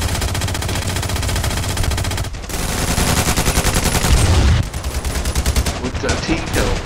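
Loud, continuous automatic gunfire from the video game Ravenfield, rapid bursts layered into a dense fusillade with a brief break partway through, then more rattling shots.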